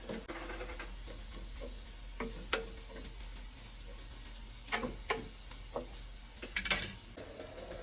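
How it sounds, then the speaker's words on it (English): Mushrooms seasoned with salt and pepper cook down in a pan while being stirred, with a low steady sizzle under scattered scrapes and utensil knocks, louder clatters clustering near the end; no one speaks. "stir that in there, and we want to cook down the mushroom"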